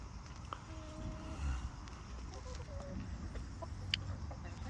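Brahma chickens and other hens cluck softly and intermittently, faint and at a distance, over a quiet outdoor background with occasional light scuffling.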